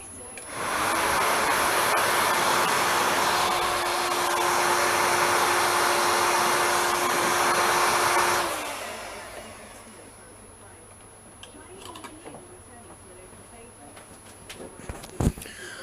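Heat gun blowing a steady, loud airflow hum while shrinking heat-shrink tubing over indicator wires on a GSXR 1000 streetfighter motorcycle, running for about eight seconds before cutting off to a quiet room with small handling noises.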